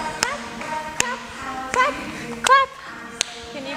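Toddlers in a ballet class step and clap, giving a few sharp, separate claps at uneven intervals while an adult voice talks over them.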